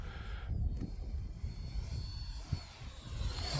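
An Arrows Avanti 50mm EDF model jet flies on a windy day, its ducted fan giving a steady, thin whine that rises near the end as it passes closer, over wind rumble on the microphone.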